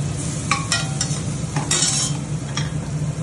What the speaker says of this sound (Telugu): మిరియాలు, కరివేపాకు, కొంచెం అల్లం వెల్లిగడ్డ పేస్ట్ వేసి ఒకసారి కలిపేసి